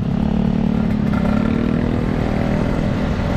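A 2010 Kawasaki Ninja RR150 two-stroke with a worn engine block runs close and loud, a steady buzzing drone with rattly clatter and no pauses.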